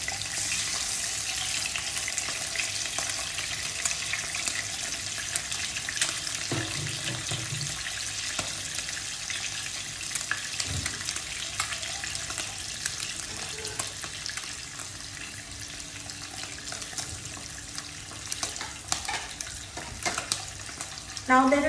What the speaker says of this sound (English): Fry it for a minute or two on each side